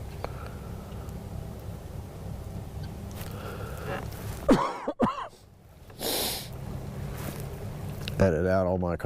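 A man fishing off a dock in January coughs: a few sharp, loud bursts break over quiet outdoor background noise, with a final cough at the end.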